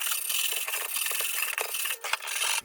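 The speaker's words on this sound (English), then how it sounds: "wire brush" Wire brush scrubbing a Dietz No 32 storm lantern, a steady close, loud rasping scratch of bristles on metal that runs continuously with a couple of brief breaks near the end.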